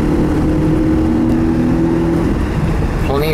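A 1984 Mazda RX-7 GSL-SE with a 13B rotary engine and five-speed manual cruises in fourth gear, a steady loud engine drone with a held tonal hum and road and wind roar, close and continuous.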